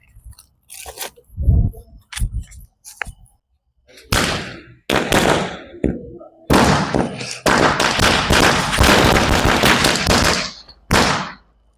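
A string of 100 Bijli firecrackers goes off outdoors, starting with scattered sharp cracks that build into long dense bursts of rapid, loud, close popping, then a final short volley.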